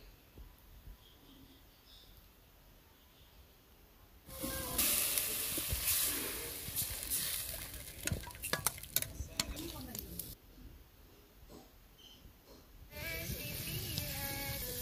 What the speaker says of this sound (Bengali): পেঁয়াজ রসুন ভাজা হয়ে গেলে আমি গুঁড়া মশলা দিয়ে দিচ্ছি পরিমাণ মতো।